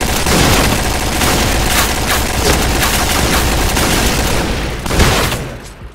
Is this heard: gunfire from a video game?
yes